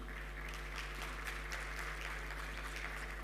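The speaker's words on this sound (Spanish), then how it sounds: "María Teresa Cerda, directora de ACESOL, a quien ya la recibimos con un lindo aplauso." Faint, sustained applause from an audience at a panel conversation on industrial decarbonization, dense and even throughout, heard at a distance over a low hum.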